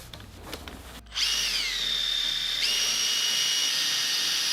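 Power tool driving bolts while reassembling a tensioner pulley on a Suzuki Every DA64V: a few light handling clicks, then a loud, steady high-pitched whine that holds for several seconds with a brief pitch shift midway.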